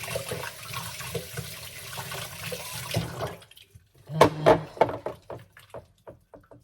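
Running water rinses slow juicer parts at a sink, with a steady wash of flow at first, then a near, splashy stretch of rinsing with scattered drips and clatter.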